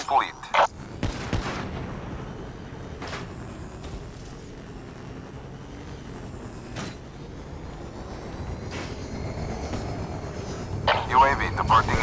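A UAV drone in Call of Duty: Black Ops III drones overhead as a steady aircraft engine hum beneath scattered gunfire bursts and battlefield clatter, with voice announcements spoken over it.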